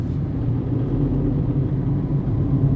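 A Tata Tiago iCNG car's engine hums with a steady low rumble while upshifting through the gears at around 2000 RPM, a continuous close drone with no talking.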